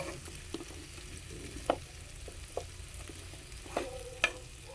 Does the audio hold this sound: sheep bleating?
no